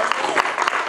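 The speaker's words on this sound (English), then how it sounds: "Let's give God a big old clap of praise, church." A church congregation claps in praise, a brief burst of many hands clapping together, fairly loud and close, with a few sharper claps standing out.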